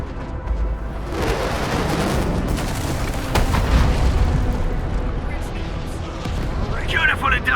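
UWST artillery strike explosion in the video game Arknights: a loud, deep boom with a rumbling roll and crackling bursts, mixed with speech and game sounds.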